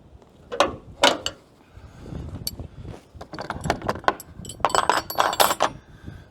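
A hood piston mount on a 4x4 Sprinter van is tightened by hand, giving close, irregular metallic clicks and ratcheting rattles in short bursts, with quiet pauses between them.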